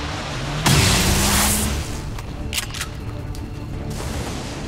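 Gunfire in the XCOM 2 video game: a loud burst of shots with a booming impact, followed by sharper scattered cracks and lingering battle noise.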